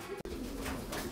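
A Pomeranian pouter pigeon gives a single brief, low coo inside a loft, set against a noisy background.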